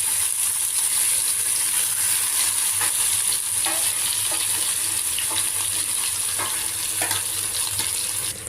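Cooked dal and drumstick leaves tipped into a hot tempering of oil and asafoetida, giving a loud, steady sizzle with the scrape and clink of stirring, close by and without talk.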